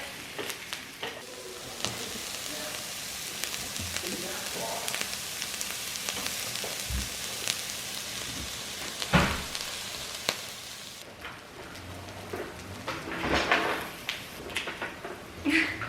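Ground beef cooks in a pot for beef pumpkin soup, giving a steady, moderately quiet crackling sizzle throughout, punctuated by occasional sharp clicks and knocks of utensils.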